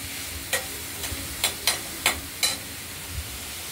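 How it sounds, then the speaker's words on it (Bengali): Banana stem pieces are stirred in a frying pan, with a soft background sizzle and a handful of sharp spoon scrapes and taps spaced irregularly, quiet and close, no voices. "ভাড়ালিগুলো নাড়াচাড়া দিচ্ছি"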